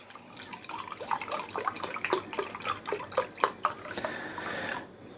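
Beef broth pours into a crock pot for a pot roast, a steady liquid stream with splashes and gurgles that rise and fall, close and alone.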